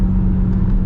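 A 2023 Dodge Durango Hellcat's 710-horsepower engine pulling hard in sport mode, a loud steady low rumble and drone heard from inside the cabin without talk.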